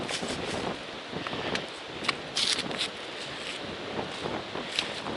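Cold wind gusts steadily across a hiking trail on the Appalachian Trail, a loud, continuous rushing roar buffeting the microphone, with faint crunching footsteps and brief rustles mixed in and no voices.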